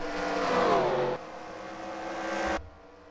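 A stock car engine in the Nitecar Splert Cup racing game at Homestead Miami, loud and close, revving up with a rising whine, then dropping to a steady drone before cutting off abruptly.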